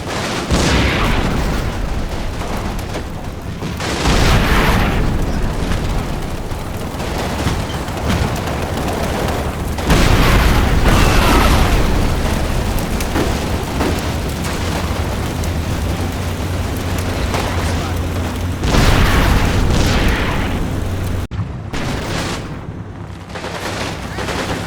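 Heavy canister shot gunfire and explosions in the wartime strategy game Combat Mission Final Blitzkrieg, a loud, dense, continuous barrage of overlapping blasts and rattling fire with periodic bigger surges, alone without speech.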